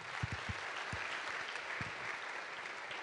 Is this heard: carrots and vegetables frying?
no